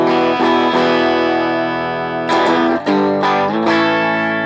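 Electric guitar played through a Vox amp model on a BOSS GT-1000 processor, with sustained distorted chords that ring out, then a few sharper re-struck chords near the end, loud and close with no talking.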